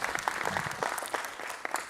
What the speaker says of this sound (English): A clap, please, for all of us.